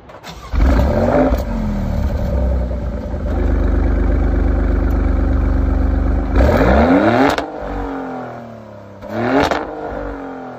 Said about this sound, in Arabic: صوت الاكزوز جميل لما تحط في بالك ان السياره اربع سلندر هايبرد